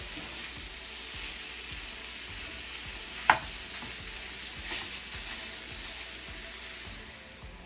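Meat sizzling and frying in a pan for cheese dip, a continuous soft crackle heard close up, with a single sharp clack of a utensil midway and no talking.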